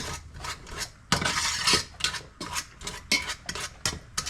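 Cooked onions are mashed and scraped in a pot with a utensil, a quick run of irregular scraping and clinking strokes, close and fairly quiet, with no talking.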